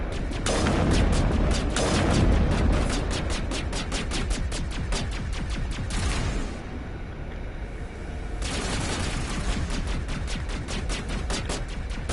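Gunfire in the video game Mass Effect Legendary Edition, rapid bursts of loud close automatic shots rattling almost nonstop, with a short lull midway before the shooting resumes.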